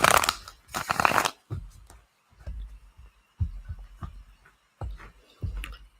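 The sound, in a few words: shuffling tarot cards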